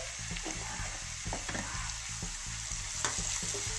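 Curry leaves and turmeric sizzle in a hot pan for a chicken masala curry, stirred with quick scraping strokes over a steady close frying hiss.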